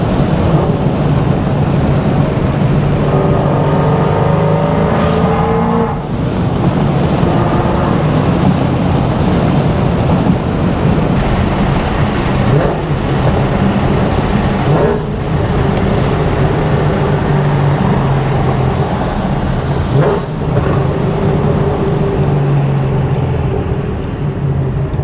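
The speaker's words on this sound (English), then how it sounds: "This is me driving in the car with the windows up, so there's really not much drone at all, and I'm giving it gas" Ford GT500 fitted with a Borla ATAK exhaust and a full tune, heard from inside the cabin with the windows up while accelerating: a steady, muffled low engine rumble and road roar that rises gently in pitch, with no talking.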